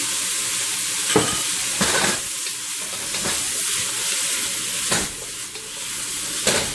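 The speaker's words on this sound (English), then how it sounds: "So we're going to go ahead and add some broccoli." Broccoli stir-frying in sesame and peanut oil: a loud, steady hiss and sizzle fills the clip, with occasional bursts of scraping and stirring, close up and without talk.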